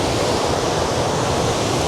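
Creek water flows in a continuous, dense rushing hiss, close and steady with no pauses or voices.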